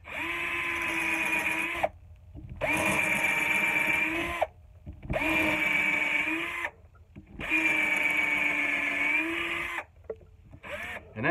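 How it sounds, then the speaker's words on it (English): Power drill boring along a wooden axe-head wedge in four sustained runs of several seconds each, separated by brief pauses, loud and close. "all I'm going to do is drill along my wedge"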